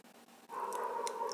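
A neighborhood dog gives a drawn-out, whining, howl-like cry that is faint and somewhat distant, heard alone after a brief moment of low background noise.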